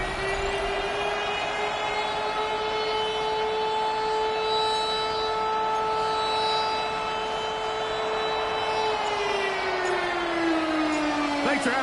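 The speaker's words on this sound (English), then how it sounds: "That sound of the big red siren brings the Cardinals and their fans to action." The big red siren at State Farm Stadium in Glendale, home of the Arizona Cardinals, wails as one loud sustained tone for about nine seconds, then slides downward as it winds down.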